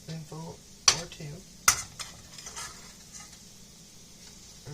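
Cooked rice stirred in a frying pan with a utensil, sharp scraping clacks against the pan over a soft sizzle, with faint low voice-like sounds in the background.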